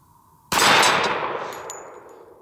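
A single sharp report rings out from a pistol firing a hand-reloaded .45 ACP round, loud and close, then a short ringing decay with a faint metallic clink.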